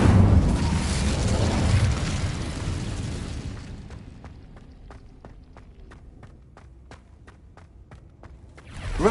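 Incendio fire spell and combat effects from Hogwarts Legacy: a loud rushing, roaring burst for several seconds, then a string of sharp, evenly spaced clicks or crackles over a quieter bed, ending in a fresh swell.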